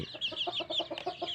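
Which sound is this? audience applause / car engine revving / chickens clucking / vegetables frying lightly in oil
chickens clucking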